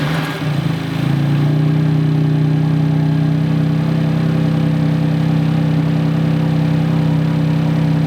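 A BMW M4 fitted with a Turner Motorsports cold air intake idles steadily and loudly up close after a brief rise in revs at the start, with an even, droning engine tone.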